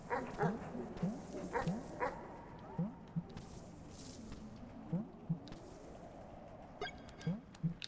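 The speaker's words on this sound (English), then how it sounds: "Oh, you are definitely a dog." Short, soft barks and whimpering yips from a dog in the video game Animal Well repeat in uneven bursts, faint and close, with some muffled voice sounds between them.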